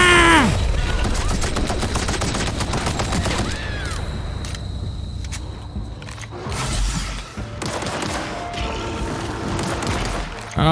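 Dense, busy combat din from assault rifle fire in The Outer Worlds, with rapid shots, mechanical clicks and clatter running nonstop at steady volume, with no talking.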